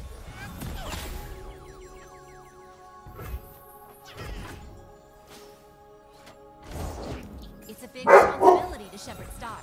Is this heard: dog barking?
yes